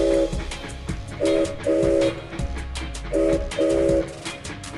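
A fancy train in a mobile game, running with a steady rumble while a loud tonal horn sounds in several separate blasts, two of them close together in pairs, with no talking.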